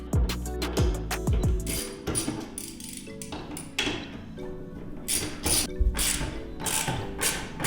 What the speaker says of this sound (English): we're going to use a 10mm socket and take out the ECU right here.